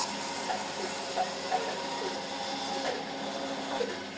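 A woodworking saw runs with a steady mechanical whir and hum while cutting a small wooden component, a dense continuous machine noise with faint ticks and rattles throughout.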